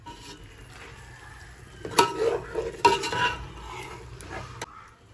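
Mutton biriyani masala stirred in a pan with a spoon scraping, close and steady with a soft sizzle underneath and two sharper clanks of utensil against the pan midway.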